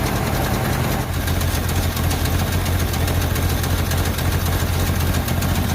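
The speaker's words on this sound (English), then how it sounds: "This engine will indeed run on a lawnmower carburetor." A small engine running on a converted lawn mower carburetor idles steadily and loudly up close, a continuous low throbbing drone with a slight rhythmic knock and no talk.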